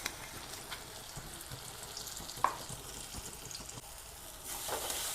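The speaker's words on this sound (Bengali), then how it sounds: "এবার একটু নেড়ে চেড়ে নিচ্ছি" Kachori filling frying in oil while being stirred, a faint, steady sizzle with occasional soft scrapes and a single sharp clink, growing slightly louder near the end, with no speech.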